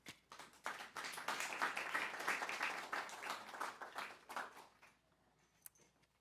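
At a literary reading, an evening audience breaks into applause, a dense burst of clapping that swells quickly, holds for about four seconds, then thins to scattered claps and fades to near quiet.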